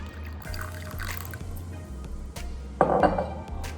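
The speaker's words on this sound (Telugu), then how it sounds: "డికాషన్ వేసేసుకుందామండి" Coffee decoction is poured into a cup for a milky Irani tea, a short splash of liquid near the end after soft clinking and background hum.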